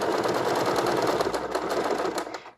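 A home sewing machine running a straight stitch through knit fabric with a twin needle, a steady fast mechanical whirr and needle clatter, close and loud, slowing to a stop at the end.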